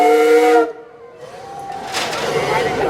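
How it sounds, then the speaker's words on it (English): The steam whistle of the Minne-Ha-Ha lake steamboat on Lake George, New York, gives a loud, near blast for about half a second, then fades into a hissy, breathy tail and venting steam. "We're going to say hello on our steam whistle."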